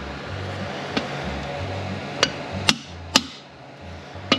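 Metal-on-metal hammer blows drive a long bushing driver to seat a bushing in an AOD automatic transmission, five sharp, ringing strikes spaced irregularly over a low background hum, close and loud, with no speech.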